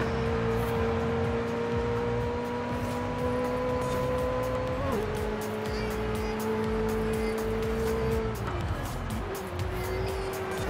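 A race car engine in a racing video game holds a steady loud drone with two gear shifts dropping the pitch, constant road and tire noise beneath, close and uninterrupted.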